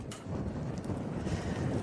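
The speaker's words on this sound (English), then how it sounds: "Wind gusts of up to 35 miles per hour will persist over the next couple of hours." Strong blizzard wind in a Boston winter storm roars and buffets the microphone in a low, continuous rumble, with no voices.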